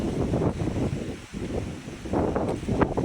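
Strong wind sweeps across a seaside resort at Matabaw, blasting the microphone with a steady, loud low-frequency roar that swells and eases in gusts, with no talking.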